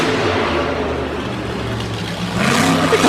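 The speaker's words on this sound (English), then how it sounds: "enjoy the sound of this truck" Gravedigger monster truck at a Monster Jam World Finals run roars with a loud, sustained engine drone that swells near the end, with broad arena-like noise throughout.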